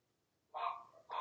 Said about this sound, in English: Guys, why are you barking?